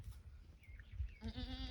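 A goat perched on a fence cross beam gives a short, nasal bleat near the end, faint against low background rumble and shuffling on a farm by a chicken coop.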